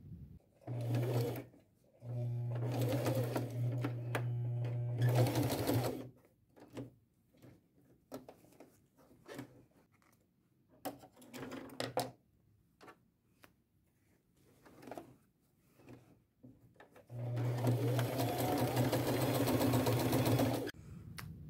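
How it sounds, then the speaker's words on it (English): Sewing machine stitching across denim jeans near a belt loop, running in several loud bursts with a steady motor whir and rapid needle rattle, separated by pauses of quieter handling and clicks. "sew across, get as far under the belt loop as I can, take it out, move it over, and continue sewing"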